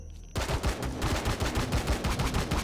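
Rapid automatic gunfire in Empyrion: Galactic Survival, a dense burst of loud, closely spaced shots that starts suddenly and keeps rattling without pause.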